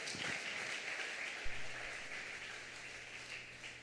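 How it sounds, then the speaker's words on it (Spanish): Congregation applauding in a church service, a steady wash of many hands clapping at moderate distance, continuous and fairly soft throughout with a faint low hum underneath. "Puedes darle un aplauso a Dios."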